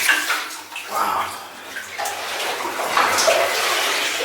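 Water sloshing and splashing around legs wading through a flooded mine passage, a continuous irregular churning close by with occasional louder surges.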